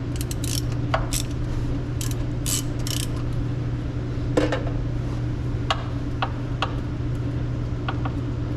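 A hand ratchet tightens a bolt on the engine of a 1984 Dodge W150 truck, with repeated quick clicking bursts over a steady mechanical hum from nearby equipment, close and clear, with no talking.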